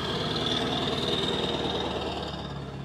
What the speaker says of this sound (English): Gotta love loud exhaust systems, right?